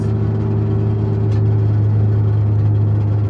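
A steady low engine drone from an old Japanese import car with a constant grinding whir underneath, its dropped exhaust dragging and scraping along the road while driving.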